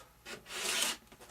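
A brief rasping, rubbing scrape while a part of an F-86 RC airplane model is trimmed, swelling for about half a second before fading. It is quiet and close, with no voices.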